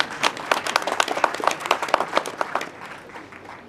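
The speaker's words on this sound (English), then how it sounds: "Can you clap for them, please?" Audience applause for graduates at a first-cohort graduation ceremony, with many hands clapping steadily for about two and a half seconds before fading to a quieter tail.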